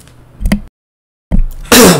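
A person coughs close into a microphone, a sharp harsh burst after brief muffled handling noise and a cut of silence, loud and near.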